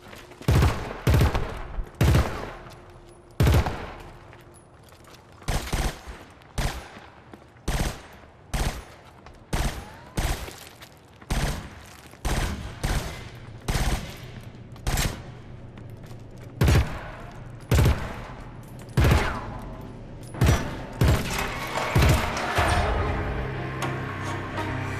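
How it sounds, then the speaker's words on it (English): Gunfire in the video game Killzone Shadow Fall, echoing off concrete: loud single shots and short bursts fired at a steady step-by-step rhythm, each crack with a booming tail, close, ending in denser overlapping fire. "take a step, shoot, take a step, shoot, it's going to sound different each time"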